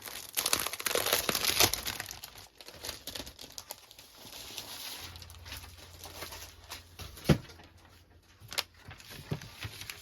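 Cotton paper is handled close up during gift-box papercraft, giving bursts of crinkling and rustling, with sharp taps and a few louder knocks on a work surface among quieter pauses.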